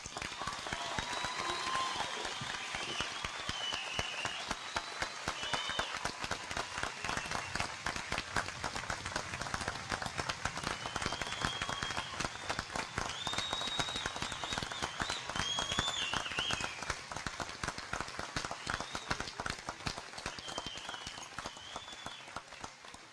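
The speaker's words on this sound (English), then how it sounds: "Let's give them a round of applause." Audience at a college commencement applauding the graduating class, sustained crisp clapping from a large crowd, moderately distant, with a few whoops and cheers rising above it over about twenty seconds.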